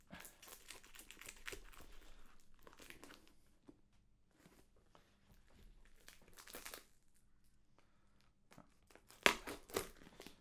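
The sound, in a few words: opening a taped cardboard box during an unboxing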